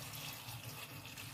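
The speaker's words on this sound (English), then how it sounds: "I want to add a little water" Water steadily runs from a tap into a pot of boiling unripe plantain. It makes a continuous, even splashing hiss with no talk.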